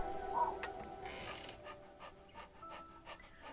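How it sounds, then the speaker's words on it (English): A dog in the video game Tiny Bunny pants and gives faint whimpers, quiet and somewhat distant over a low background hum, with no clear loud barks. "The corridor was filled with dog barks and the patter of tiny feet."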